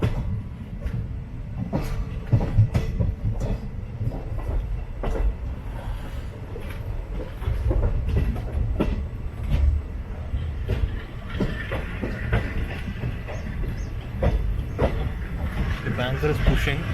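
An express special train on the Sengottai to Kollam line rumbles along with steady clickety-clack from the wheels on the rails, while a banker locomotive pushes the rake from behind. The roar is continuous and close, with faint squeals.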